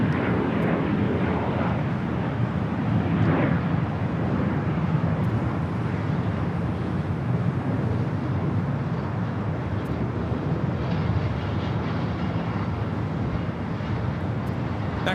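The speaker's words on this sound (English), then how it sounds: "This arrival is Hawaiian Airlines Flight 10 coming in from Honolulu on the A330-200." Hawaiian Airlines Airbus A330-200, Flight 10 from Honolulu, arriving at LAX, a sustained heavy jet rumble with a slight swell around the third second, then steady and fairly close, with no talk.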